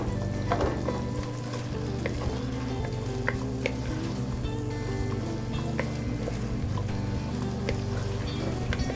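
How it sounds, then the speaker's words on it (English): Chunky onions fry in melted butter, a continuous close crackling sizzle with a low hum beneath and scattered light clicks from stirring, with no voices. "My butter's melted, and I'm going to drop these onions in there."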